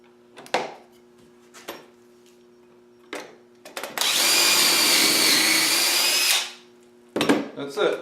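A power driver runs in one loud, steady burst of about two and a half seconds, driving screws into wood while building a home-made wooden blasting cabinet, between short clicks and handling knocks.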